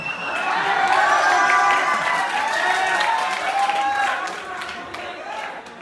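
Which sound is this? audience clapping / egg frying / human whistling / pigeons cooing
audience clapping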